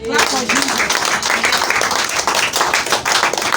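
A church congregation claps loudly in praise to God, steady dense clapping with voices and other sounds mixed in throughout.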